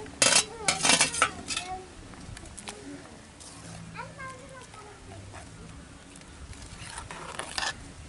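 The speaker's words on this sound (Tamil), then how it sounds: "இப்போ அரைச்சி வச்சுக்கிற தேங்காயை சேர்த்துக்கலாம்." Ground coconut paste going into a simmering mutton intestine curry, with a few sharp metallic clinks of a utensil against the pot early on, then quieter scraping and bubbling.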